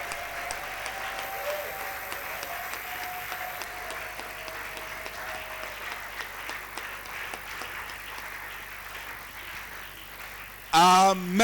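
A church congregation applauds in praise of the King of Glory, sustained clapping from a crowd mixed with voices, ending in a sudden loud burst of sound.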